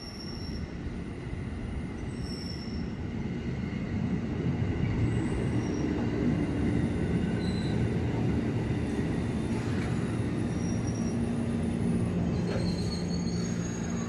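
A KRL commuter line train at Jayakarta station rolls steadily past, its wheels squealing in long high whines over a continuous loud rumble of railcars, with no voices.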